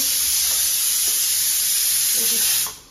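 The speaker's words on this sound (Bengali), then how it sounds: "এখানে ঘুগনির জন্য কড়াই সিদ্ধ হচ্ছে" Peas (dried matar) boiling in a pot for ghugni give a steady, loud hiss and bubbling simmer with faint soft knocks, fading out at the very end.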